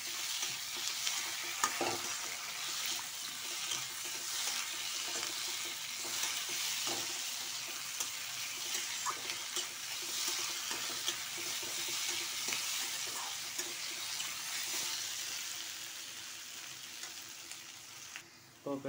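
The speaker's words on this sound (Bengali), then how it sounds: "এবার এটা একটু লাল লাল করে ভাজবো।" Potatoes coated in spices and coriander powder fry in a pan for egg curry, giving a constant bright sizzle with repeated stirring scrapes over a long stretch, close and steady, ending with a few knocks.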